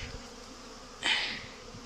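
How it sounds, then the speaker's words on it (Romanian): Honeybees flying near a hive entrance as they return carrying pollen, a steady soft buzzing with one bee passing close and louder for a moment, no voices. "Un zbor frumos la albine."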